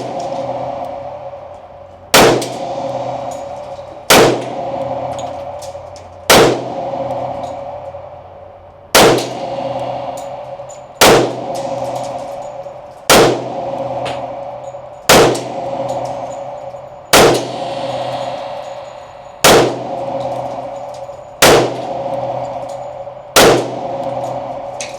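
An M&P 10mm pistol fired on a range: eleven sharp, loud shots at a slow, steady pace about two seconds apart, each followed by a ringing tone that fades before the next report.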